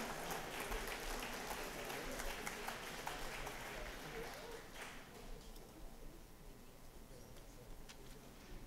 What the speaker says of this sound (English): One last round of applause for all of our athletes and musicians.